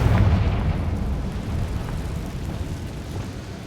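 The Confringo blasting spell in Hogwarts Legacy, a deep explosive boom that strikes at once and then rumbles down into a fading roar.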